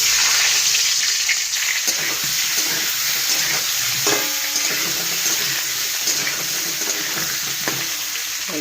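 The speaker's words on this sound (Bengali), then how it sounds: "আলুটাও বেশি ভাজা হবে না, জাস্ট একটা কালার আনার জন্য আলুটা একটু ভাজা করলাম।" Boiled potatoes fry in a pan after eggs were browned, a steady, loud, hissing sizzle with occasional stirring scrapes throughout.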